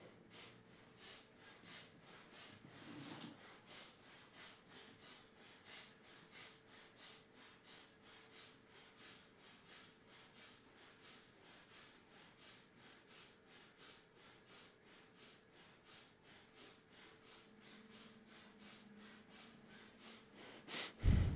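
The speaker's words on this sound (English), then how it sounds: "Begin breath of fire." Breath of fire in a Kundalini yoga class: rapid, rhythmic nasal exhalations pulsing evenly for about twenty seconds, soft and close, with a brief louder breath near the start and a sharp noise at the very end.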